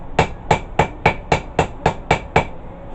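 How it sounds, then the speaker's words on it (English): Nine evenly spaced, ringing hammer blows on an anvil while forging a herb chopper, sharp metallic strikes about every quarter second, close and loud. "Hit the anvil."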